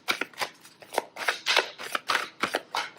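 Oracle cards being shuffled by hand, a rapid run of crisp papery riffles and flutters in short bursts, close and fairly quiet, with no talking.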